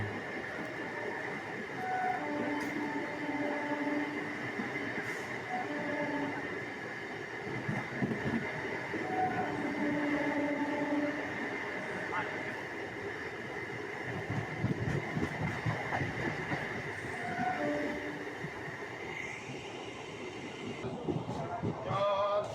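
A Sealdah–Godda MEMU train runs through a station without stopping, heard from inside as a steady loud rumble with rhythmic wheel clatter and drawn-out tonal whines, a horn-like tone sounding near the end.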